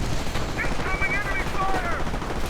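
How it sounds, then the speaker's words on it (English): Battle noise from a WWII strategy video game: a mortar fires amid dense gunfire, with rapid bursts and faint whistling tones under a voice talking throughout. "And that mortar just keeps on firing."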